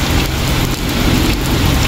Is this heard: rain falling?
yes